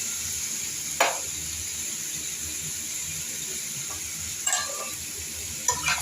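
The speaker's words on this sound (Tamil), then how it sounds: "இந்த மாதிரி வதங்கிட்டு இருக்கும்போது உருளைக்கிழங்கையும் சேர்த்துடலாம் நம்ம. அப்போ தான் ரெண்டும் சேர்ந்து நல்லா வதங்கி வரும்." Onions and potatoes sauté in a pan under a steady hiss of frying, with a few sharp stirring scrapes and clatters against the pan scattered through it.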